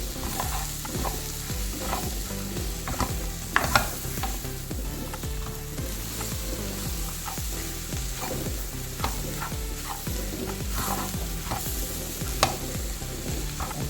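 Coriander powder being sautéed in a pan on the stove: a steady close sizzle runs throughout, with rhythmic stirring scrapes and occasional clanks of the spoon against the pan, and no voices.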